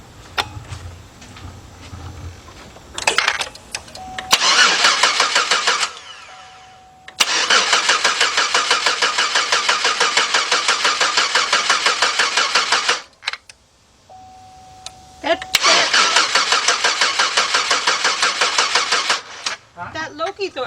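Rebuilt Chevy Equinox engine with new head gaskets and timing chain being cranked: a starter whirs in long loud bursts, with a brief catch between attempts and a warning chime, while people talk nearby.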